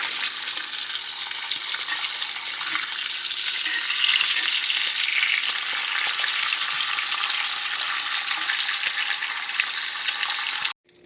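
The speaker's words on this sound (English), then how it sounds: "It is sizzling." Loud, steady sizzling of potatoes frying in a hot cast iron skillet, a dense crackling hiss close up that continues evenly before cutting off.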